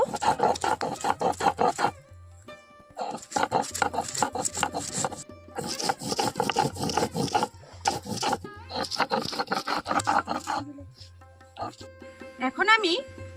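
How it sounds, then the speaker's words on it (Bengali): Two green chillies are ground by hand on a grinding stone, giving repeated rhythmic rasping scrapes in bursts with brief pauses, while someone talks over them. "এখানে আমি দুটো কাঁচা লঙ্কা নিয়ে নিচ্ছি এখন খুব ভালো করেই বেটে নেব"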